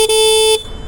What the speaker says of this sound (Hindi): तो बता के सुनाता हूँ कि कैसा हॉर्न साउंड करता है इसका